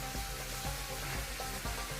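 Aubergines and tomatoes sizzle and fry in a hot pan, a dense, constant crackling hiss with soft stirring knocks beneath it, close and steady with no talk.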